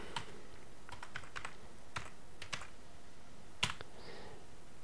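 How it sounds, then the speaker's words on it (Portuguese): Keystrokes on a computer keyboard typing a web address, a quick run of separate clicks with brief pauses and one sharper tap near the end, close and fairly quiet, no talking. "Vamos digitar aqui yahoo.com."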